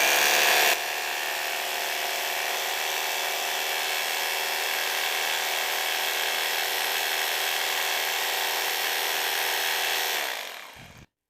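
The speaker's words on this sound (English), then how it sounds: "I'm going to turn on the drill and check here to see how long the battery will last" An electric drill runs continuously on a BLUETTI AC70 power station, giving a steady, even whine for about ten seconds. It then winds down to silence as the trigger is released.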